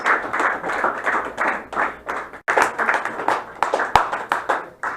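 A comedy club audience claps and cheers for stand-up comedian Scott Sullivan in uneven, rolling bursts that rise and fall over several seconds, with no talk.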